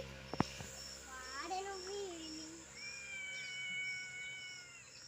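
A cat meowing while someone catches it: drawn-out, wavering mewls rising and falling over a few seconds, fairly close, with a sharp knock at the start and a voice nearby.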